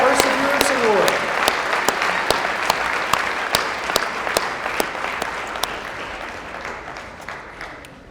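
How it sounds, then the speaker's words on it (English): Audience applause at an awards breakfast, steady and full with distinct individual claps, gradually fading toward the end while a voice speaks briefly at the start. "Let's have another round of applause"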